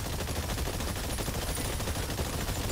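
Steady, dense gunfire at targets in the video game Exoprimal, a continuous loud barrage that runs unbroken from start to finish with no talking.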